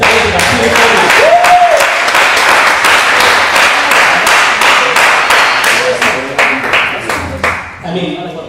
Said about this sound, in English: please, another big round of applause for the talented Akili family.